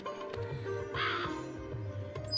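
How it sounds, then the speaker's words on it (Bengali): A crow cawing in the Meena video game, faint and brief, rising once above a low steady background hum with no voices. "তো এই কাকটা শুধু চলে আসতেছে"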